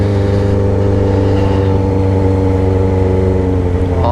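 A Yamaha XJ6 motorcycle engine idles and revs loudly up close, a steady throbbing drone with strong harmonics that holds throughout, with no one talking.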